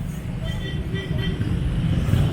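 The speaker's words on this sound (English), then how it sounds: "See how the traffic clog up around here in SM City." Street traffic clogging the road near SM City in Consolacion, Cebu, a steady rumble of car and bus engines heard nearby from a walking tour.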